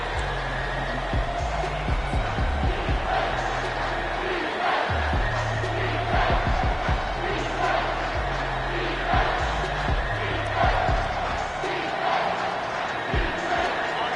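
A stadium crowd roars steadily at an Auburn versus Cincinnati football game during a big third down, a dense, loud wall of cheering and chanting that fills the whole stretch, with low thumping pulses underneath.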